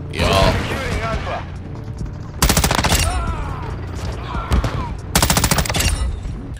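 Rapid automatic gunfire from a Call of Duty: Modern Warfare II match, two loud sustained bursts of rattling shots over busy game effects and background voices.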